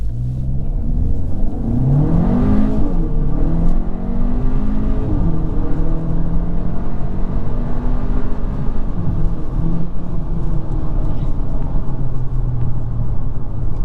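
A 2022 Hyundai Elantra N Line with a dual-clutch transmission accelerating hard in sport mode with traction control off, its engine note rising steadily and loud, with a rumbling drone throughout and no talking.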